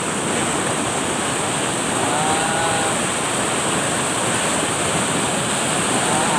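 Water rushes loudly and continuously, a dense roaring hiss like a swollen river in full flow, with no voices.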